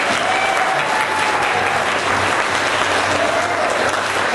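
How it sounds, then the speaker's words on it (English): A concert audience applauds a singer being introduced with a big band. The clapping is dense, loud and continuous throughout, with no pauses. "So give her a nice round of applause."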